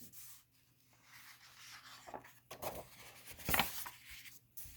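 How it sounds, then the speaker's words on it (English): A page of a paper convention program is turned, giving a brief, soft rustle and rub of paper close by in a quiet room. "Let's get the page turned."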